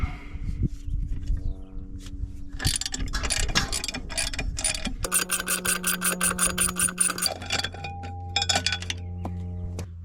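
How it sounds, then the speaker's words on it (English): A ratchet socket wrench with a 12mm socket takes the bolts off a machine shroud, giving quick runs of metallic clicking and clinks over a steady tonal hum, close and fairly loud. "First thing I'm going to do is take this shroud off. That is a 12mm socket."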